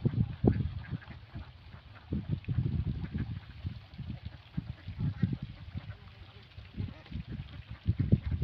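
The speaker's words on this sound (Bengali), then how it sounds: "কিন্তু এই লাড়ার ভিতর অনেক হাঁস আছে" Ducks quacking in a flock at a small pond, a busy run of loud quacks and honks close by, with voices talking over them.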